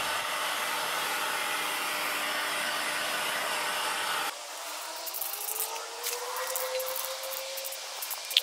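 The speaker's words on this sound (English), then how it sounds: "I aided the process along with my heat gun" A heat gun blows hot air to cure high temperature paint on rusty brake discs of a C63 AMG, a steady loud whooshing roar that drops to a lighter airy hiss partway through, with faint ticking near the end.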